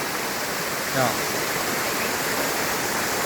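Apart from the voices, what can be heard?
jungle waterfall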